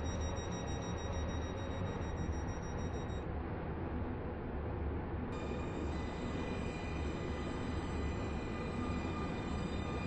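A train pulls into a platform in a Stepford County railway game, a steady, loud rolling rumble with a sustained high whine and a brief tone change partway through, no voices.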